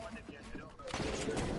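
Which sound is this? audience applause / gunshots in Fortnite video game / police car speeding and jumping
gunshots in Fortnite video game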